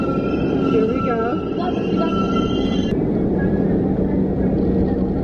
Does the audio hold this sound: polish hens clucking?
no